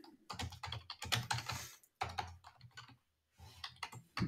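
Close, quick touch typing on a computer keyboard, bursts of rapid key clicks with a brief pause before a final flurry.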